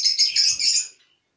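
Budgerigars chirp in an aviary, a dense run of bright, overlapping tweets close by that stops abruptly and falls silent.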